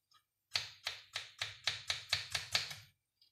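An onion is chopped with a knife on a board: about ten crisp, evenly spaced strokes land close and loud in a steady rhythm, then stop, with no voices.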